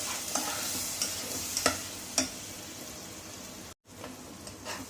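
Tomato puree frying in a pan for an egg curry, giving a steady broad sizzle with a few sharp stirring scrapes and a brief dropout near the end.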